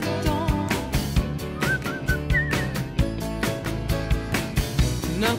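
A clear whistled melody rides on top of a full band backing in a French pop love song, the whistling steady and prominent against the music.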